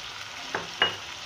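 Minced keema cooks with onions in a pan under a quiet, even sizzle, with two short scraping strokes of a spoon close by; no talking.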